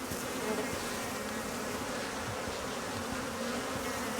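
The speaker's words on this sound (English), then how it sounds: "Okay, I hear bees." Bees buzz steadily in a cave in the survival game ICARUS, a dense, continuous insect drone that stays even and moderately quiet throughout with no voices.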